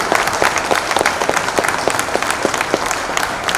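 An audience breaks into sustained, dense applause at an award ceremony in a darbar hall in Udaipur, many hands clapping steadily and loudly throughout with a faint crowd murmur underneath.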